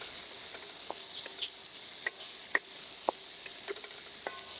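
Chopped onion and green peas sautéing in a pan, a soft continuous sizzle broken by small sharp pops and scraping stirs, quiet and close with no talk.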